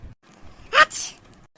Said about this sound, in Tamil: எவ்வளோ ஒருத்தவ தும்மினா